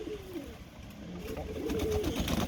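Pigeons coo on a terrace, soft low rounded calls rising and falling over a steady background hiss, growing slightly louder toward the end.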